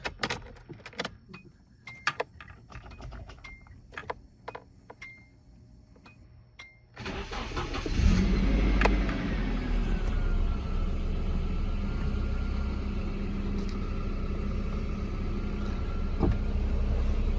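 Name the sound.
car engine being started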